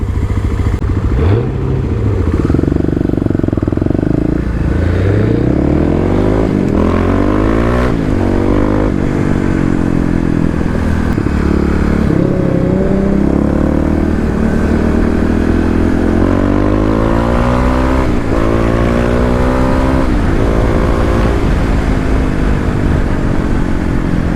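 A Kawasaki KLX351 dual-sport motorcycle with its secondary throttle blade removed accelerates through heavy traffic, the engine loud and close, revving up through rising pitch sweeps with gear changes and a constant roaring drone throughout.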